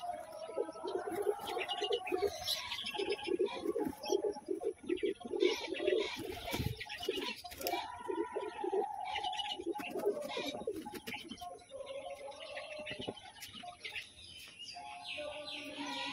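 Young pigeons in a loft make steady, overlapping cooing and soft calls that fill the whole stretch, close and fairly loud, with occasional chirps mixed in.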